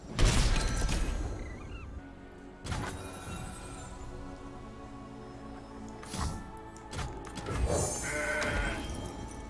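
Goat bleats from the Mountain Goat card in the Legends of Runeterra digital card game, heard as a few short bleating calls amid crashing game effects and sharp impact sounds, with no talking.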